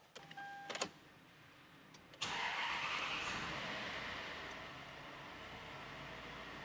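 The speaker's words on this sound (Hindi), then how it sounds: "मैं इस गाड़ी को स्टार्ट भी कर लेता हूँ।" A Toyota Land Cruiser 100 Series is started up close by. A few sharp clicks come first, then the engine catches with a loud surge and eases into a steady, smooth idle.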